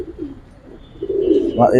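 Giribaz and racer pigeons give soft, murmuring coos that swell louder toward the end, close by, with a voice briefly mixed in.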